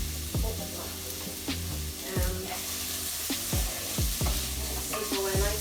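Onions fry in a pan with a continuous close sizzle, punctuated by frequent stirring scrapes and knocks of a utensil against the metal.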